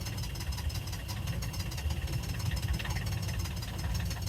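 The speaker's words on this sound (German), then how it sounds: "Motor läuft." Boat engine running steadily after a restart in winter cold, a continuous low rumbling idle with a rough knocking vibration, fairly even in level and heard alone without voices.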